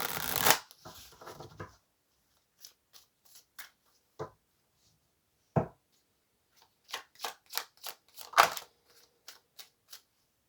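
Tarot cards shuffled by hand: a loud riffle burst at the start, then scattered soft card taps and slaps, ending in a quick flurry of crisp flicks, with no talking.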